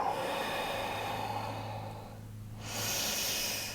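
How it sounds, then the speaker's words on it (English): A slow, steady exhale during a yoga forward fold, a soft breathy rush running for a few seconds before easing off, then a fresh, brighter breath swelling in at the end, close and quiet with no talk. "And exhale."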